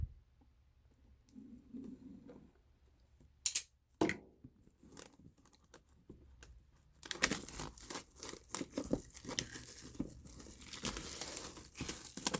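A D&D Essentials Kit box is opened, with close crinkling and tearing of packaging, a few sharp snaps early, then a denser burst of rustling and ripping in the second half, no talk.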